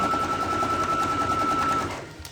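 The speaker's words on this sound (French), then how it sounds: "je suis en train de surpiquer l'ensemble du sac pour apporter un petit côté esthétique." A sewing machine top-stitches around a fabric tart-carrier bag, running at a continuous steady buzz with a whining mechanical tone up close, then slowing and stopping at the very end.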